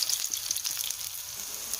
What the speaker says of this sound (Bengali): এপিট ওপিট করে ভেজে নিলেই রেডি হয়ে যাবে আমাদের এই মুড়ির চপ।